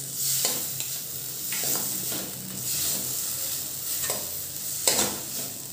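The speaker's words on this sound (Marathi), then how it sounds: "आता भाजीला तेल सुटेपर्यंत हे व्यवस्थित 1-2 मिनटं आपण परतून घेऊ हे मसाले" Spices, onion, tomato and crushed peanuts stir-fried in oil for a potato curry, a steady close sizzle broken by repeated scraping strokes of a spoon through the pan.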